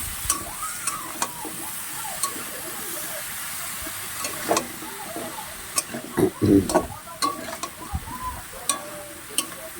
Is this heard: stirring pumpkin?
yes